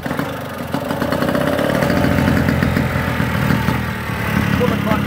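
A 1951 James Superlux 98cc autocycle with a Villiers two-stroke engine catching and running, a steady buzzing putter that holds close and fairly loud throughout.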